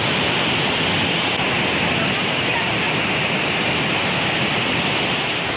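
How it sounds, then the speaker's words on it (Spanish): Floodwater from an overflowing ravine rushes through a flooded town centre in Ecuador's highland El Oro province after heavy rain, a loud, continuous roaring torrent of broadband water noise. "La corriente del agua inundó toda la zona céntrica de esa localidad"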